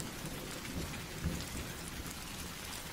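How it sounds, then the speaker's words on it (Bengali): Heavy night rain with thunder beside a rural wetland: a steady, soft hiss of falling rain with a low rumbling swell, heard fairly faint and without any speech. "যে বৃষ্টি হচ্ছে সবটাই তো গায়ের উপর দিয়ে গেল"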